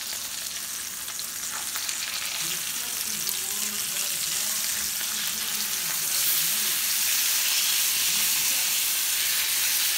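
Chicken fajita pieces sizzle steadily in a hot pan, a loud continuous frying hiss that swells slightly louder midway, with faint stirring or movement underneath.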